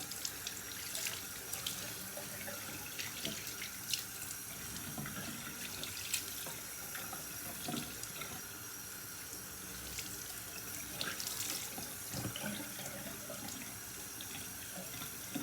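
Water runs steadily from a bathroom sink tap while a face is rinsed, a continuous close hiss broken by small irregular splashes and drips.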